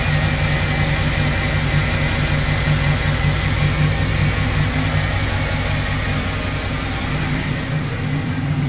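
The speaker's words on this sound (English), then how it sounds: "it's got a nice rumble to it. You can definitely hear them long tube headers" A 1978 El Camino with an LS engine swap and long tube headers rumbles steadily at idle, a dense, continuous low growl heard close up without any talk.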